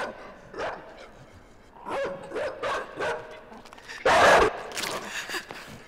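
A dog barks in a series of short, repeated barks that grow louder, ending in one loud, close burst, with quieter sounds between the barks.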